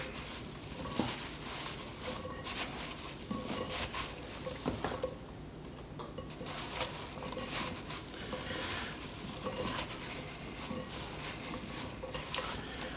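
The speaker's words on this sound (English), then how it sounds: "Try to get it as evenly mixed as possible" Sliced apples for a grandma-style apple crisp are tossed and stirred in a large bowl, giving a steady, close, moist clatter and shuffling that runs without pause and without talk.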